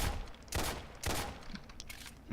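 A minigun in the video game Dread fires in sharp, loud bursts, with several heavy blasts spaced about half a second apart over a rumbling background.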